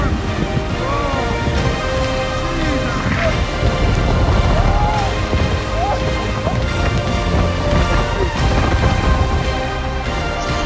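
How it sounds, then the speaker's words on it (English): Heavy rain from a storm pours onto a floating house on Lake Tempe in Sulawesi, Indonesia, a steady dense roar with scattered sharper drips and knocks throughout, no voices. "look at this storm!"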